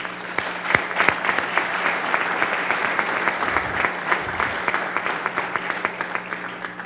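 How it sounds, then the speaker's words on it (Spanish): An audience applauds warmly for nearly seven seconds at an event in Samborondón, with many clear, individual claps in a lively, steady patter and a faint low hum underneath. "Un aplauso para ellos, por favor."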